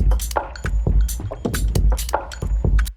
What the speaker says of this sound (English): the other one is me rustling through leaves, but transposed down -20 semitones